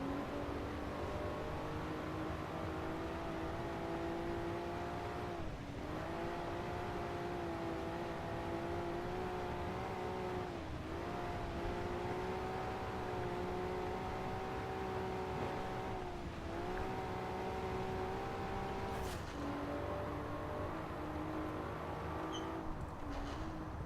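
An S13 with an RB26 engine drives in Forza Horizon 4, its engine droning steadily at moderate level with brief dips as gears shift, a continuous hum held for the whole stretch.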